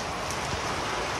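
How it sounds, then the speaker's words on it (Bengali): Heavy rain is pouring down, a dense, loud and continuous wash of broadband patter. The short stretch has no speech. "ভরপুর জোরে বৃষ্টি নেওয়া শুরু করছে।"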